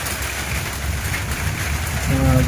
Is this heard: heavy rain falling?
yes